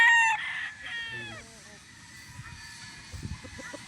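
Free-range chickens on a farm in San Pablo, Laguna crow loudly at close range, the crow fading out before softer clucking and scattered bird calls continue beneath someone speaking.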